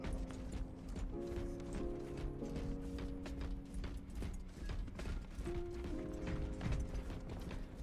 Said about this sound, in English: It's time for me to walk on my horse for 10 minutes